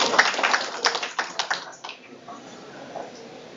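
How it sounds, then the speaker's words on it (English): Audience at a startup workshop event claps for the coordinator, a thin scattering of separate hand claps that starts fairly loud and close, then fades and trails off into quiet room noise. "A big round of applause for our chief coordinator."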